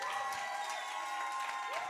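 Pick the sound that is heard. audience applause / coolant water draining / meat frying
audience applause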